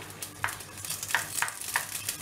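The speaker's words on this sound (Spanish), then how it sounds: "ahora vamos a refreír lo que es el chorizo" Chorizo frying in olive oil for a Riojan rice dish, a steady close sizzle with a few sharp crackles and spatters over the hiss, no voices.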